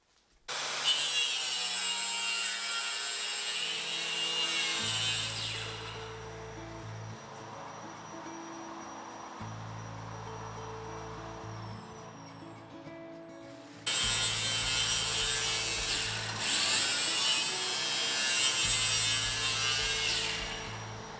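Pieces of wood being sawn at an angle give close, loud, continuous rasping strokes in two long runs separated by a short quiet gap, and no speech.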